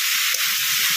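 Malabar spinach (puishak) frying in a pan for a Bengali chhechra, a steady bright sizzle throughout with a faint stirring knock near the start.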